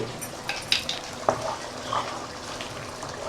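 Fish sambal simmers and reduces in a pan, a soft steady bubbling sizzle with a few light clinks of a utensil against the pan.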